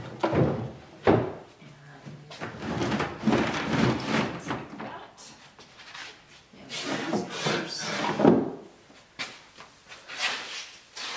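Wooden drawers on a handmade roll top desk slide open and shut repeatedly, giving a series of close, rubbing wooden scrapes and soft knocks across the stretch.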